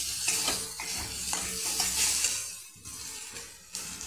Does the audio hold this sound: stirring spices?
yes